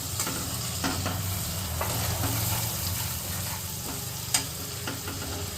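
Mustard-poppy paste is stirred into spices in a frying pan, a steady close scrape and sizzle with a few sharper clinks of the spoon against the pan, no talk.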